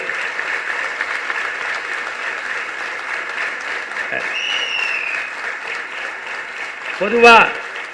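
A large audience at a Tamil stage speech breaks into sustained applause, a continuous dense roar of clapping that holds steady for the whole stretch with a brief louder swell near the end.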